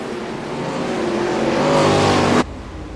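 Sprint cars racing around USA International Speedway in a racing game, engines droning loud and close, pitch climbing steadily before the roar cuts off abruptly, followed by a quieter distant engine hum.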